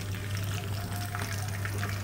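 Catfish frying in hot oil for green-chili fried catfish, a steady dense sizzle and crackle close up, continuous for two seconds with no voices.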